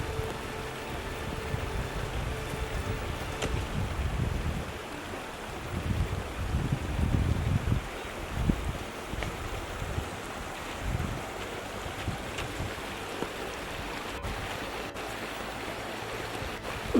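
Continuous rushing water in a newly formed canal cut by floodwaters from a cyclone, a steady broadband flow with low rumbling surges, heard outdoors without talk.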